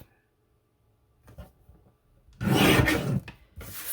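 A paper trimmer slicing through a sheet of teal paper, a short scraping cut after a quiet pause, followed by a second brief rasp.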